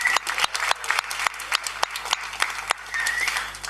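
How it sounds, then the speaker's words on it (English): Applause from a conference audience for a youth agrifood policy panel, a steady burst of many hands clapping at moderate distance with some sharper individual claps standing out, no talk over it. "Another round of applause for that wonderful panel."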